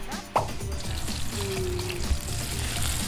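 Sautéed spices of tomato, green chili, shallot and garlic sizzle steadily in a pan, with a soft crackling hiss, a brief stir or clatter near the start and no one talking.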